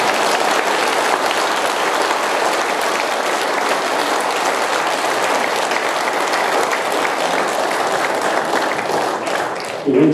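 A church congregation at a Catholic parish applauds steadily for about ten seconds, a dense, even wash of many hands clapping at close range.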